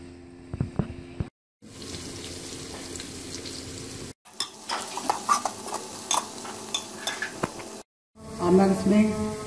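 Onions frying in oil for chicken biryani, a sizzle with stirring clatter and pot noises broken by short silent cuts, close by, with bits of tonal sound mixed in.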